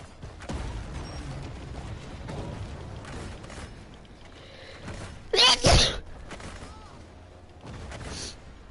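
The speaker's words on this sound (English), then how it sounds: "Sweating as I'm sneezing." One loud, abrupt sneeze bursts out midway through, surrounded by a noisy room with indoor background sounds and faint television-like audio.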